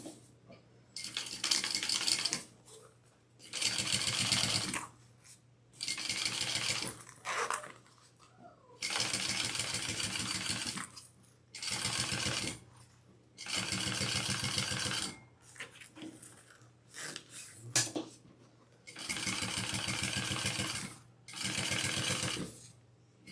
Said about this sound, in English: flip it up and top stitch